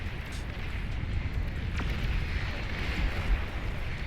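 Shiva units fire and explode in a large battle in the real-time strategy game Beyond All Reason, a continuous deep rumble of blasts with an eruption-like roar.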